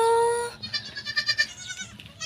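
Goats bleat on a farm where a doe has just given birth to triplets, several wavering bleats in quick succession, close and clear, after a brief high tone at the start.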